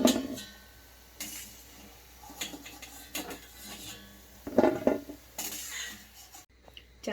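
Scattered metal clinks and scrapes of a slotted spoon against a pan as fried balushahi are lifted out of the oil, several separate bursts of clatter with quiet gaps between them.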